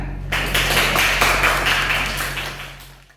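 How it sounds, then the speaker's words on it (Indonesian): A classroom of students clapping together during a civics teaching session, a steady, moderately loud wash of claps that swells and then tapers off. "Tepuk tangan."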